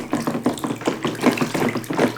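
A toy rhino is swished and rubbed in water during a child's washing play, giving a steady run of close splashing and sloshing pulses in a quick, uneven rhythm with no talk.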